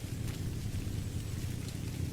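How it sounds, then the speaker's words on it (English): A heavy winter storm pours rain steadily onto surfaces, giving a dense, continuous roar with a low rumble underneath, close and loud, with no voices. "In late January, a storm rolled in stronger than usual."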